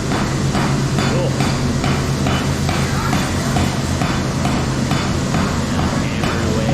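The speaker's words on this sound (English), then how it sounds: "Hammering away. Hammering on the anvil. Metal on metal." Hammering on an anvil as seen on the Forged in Fire show, a steady run of sharp metal-on-metal strikes repeating roughly twice a second under a dense, loud background of voices and noise.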